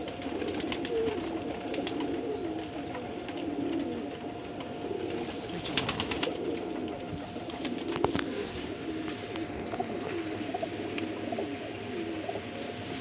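A group of kept pigeons coos in a continuous low murmur, with occasional chirps and wing flutters nearby, and no voices.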